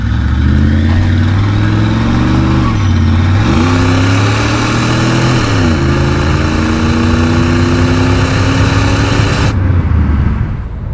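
Tuned-port-injected 5.7-liter V8 in a 1989 Chevrolet Camaro IROC-Z pulls hard through the gears, its steady drone rising in pitch, dipping at each shift, then climbing again, loud and continuous from inside the car with no talking.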